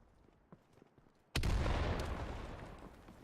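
Grenade explosion in a first-person shooter match on the Derailed map, faint ticks and clicks, then one sudden loud blast that decays into a long rumbling tail.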